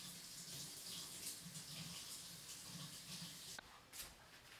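Tap water runs steadily into a sink, drenching a plant's root ball in a continuous close hiss and splash that briefly shifts near the end.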